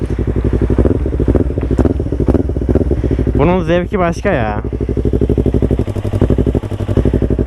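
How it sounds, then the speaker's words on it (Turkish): A Yamaha R6 motorcycle engine idles loudly and steadily with a deep, pulsing exhaust rumble throughout, while someone speaks briefly over it midway. "Şimdi arkadaşlar motorumuzu çalıştıralım. Şöyle bir sesini dinleyelim."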